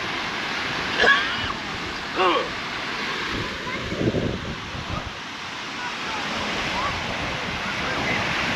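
Steady surf and wind wash over a sandy beach at low tide, a continuous broad roar with wind buffeting the microphone, while a voice speaks faintly over it.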